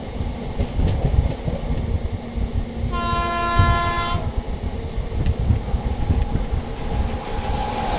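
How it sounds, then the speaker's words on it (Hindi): The Howrah Rajdhani express, train 12302 from New Delhi to Howrah, approaches with a loud rumbling run along the rails, and a single long horn blast sounds about a third of the way in before the rumble carries on. "सामने से आ रही है ट्रेन नंबर 12302, नई दिल्ली से चलकर हावड़ा तक जाने वाली हावड़ा राजधानी"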